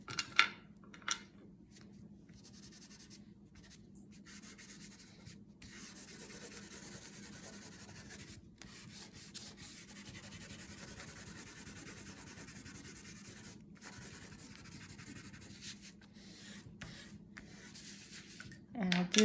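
A crayon laid on its side rubs quickly across paper to color grass and leaves, a faint, steady scratchy shading sound with brief pauses between strokes.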